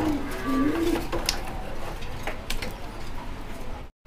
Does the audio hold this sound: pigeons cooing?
yes